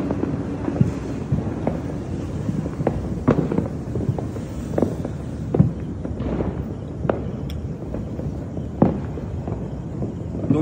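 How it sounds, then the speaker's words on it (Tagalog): Fireworks crackle and pop steadily from a distance during New Year's Eve celebrations, scattered bangs over a continuous rumble with some wind noise. "may paputok na dito sa ano."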